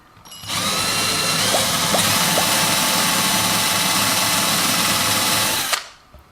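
A power drill bores into an aluminium wheel hex for a WLToys 144001 RC car, a loud steady whine running for about five seconds with a few brief catches, then cutting off abruptly.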